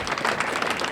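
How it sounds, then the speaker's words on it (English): Thin, scattered clapping rises from a small audience for about a second, fairly close and steady, with no voices over it. "I knew the applause would be real sparse"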